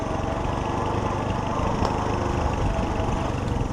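A Honda CT90 motorbike engine runs steadily in a low gear, a close, loud, continuous small-engine putter with an even rhythm throughout.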